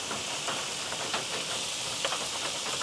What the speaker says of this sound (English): we're going to go ahead and throw in some squash from the garden with some butter and olive oil